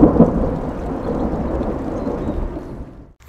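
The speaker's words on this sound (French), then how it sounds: "nous voilà sur le deuxième orage" A thunderstorm during storm chasing, with a loud, rolling rumble of thunder over steady rain that stays broad and dense before fading at the end.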